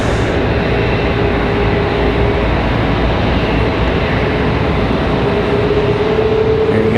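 A Boeing 777 at Raleigh Durham airport sends a loud, constant broadband engine roar with a faint rising whine, steady for the whole stretch and free of speech.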